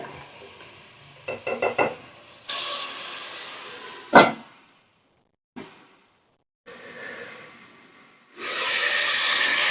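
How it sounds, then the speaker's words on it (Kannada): Minced mutton sizzles loudly in hot oil with tempering in several bursts, broken by stirring scrapes, a sharp metal clank and short quiet pauses. "ಚೆನ್ನಾಗಿ ಒಗ್ಗರಣೆ ಜೊತೆನಲ್ಲಿ ಈ ಮಟನ್ನ ಫ್ರೈ ಮಾಡ್ಕೊಳ್ಳೋಣ"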